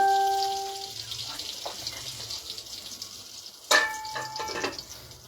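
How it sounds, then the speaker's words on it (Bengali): Butter and oil melting and sizzling in a pan, a soft continuous crackle with a few faint tones early on and a sharper clink of utensil near the end. "প্রথমেই বাটার আর তেল গলে গেল।"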